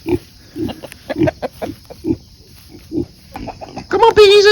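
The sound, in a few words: pigs and chickens on a farm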